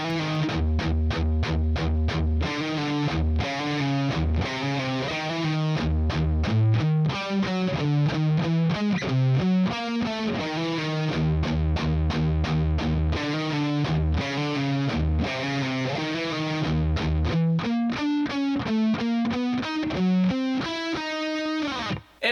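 A bridge riff on heavily distorted electric guitar at slow speed, a long run of chugging palm-muted low notes and fast rhythmic chord stabs, loud and continuous with no talk.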